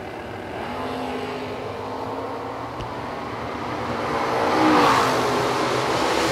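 Two Chevy II drag cars, one running a 632 engine, launch in a drag race; a broad engine roar swells from a distance and peaks near the end.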